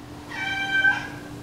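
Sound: cat meowing

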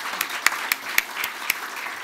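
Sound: audience applause welcoming a photography panel

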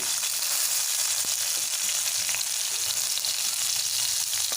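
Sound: green chilies and garlic frying in oil

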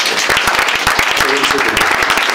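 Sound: congregation applauding

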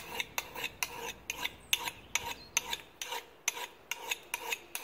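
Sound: sharpening an axe with a flat chainsaw file

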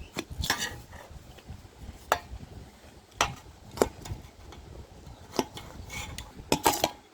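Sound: brother chopping onions with a knife for jhal muri

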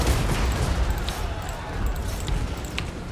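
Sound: artillery bombardment in Total War: Warhammer II video game

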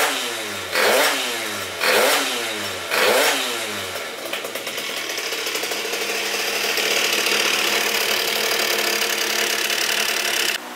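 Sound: Phantom F12 70cc scooter engine revving, loud carburetor

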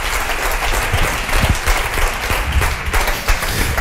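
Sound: audience applause for Manuel and Yago

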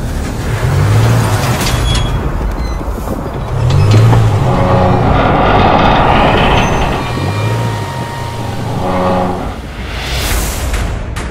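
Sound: standard Land Rover Discovery Sport towing on a rail

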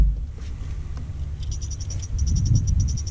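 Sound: Livingston fishing lure making cricket-like noise

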